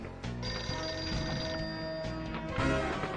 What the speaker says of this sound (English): We can now hear the phone ringing,